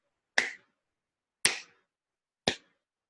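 Three crisp hand claps ring out alone, evenly spaced about a second apart, each a sharp, dry slap with a quick decay and silence between.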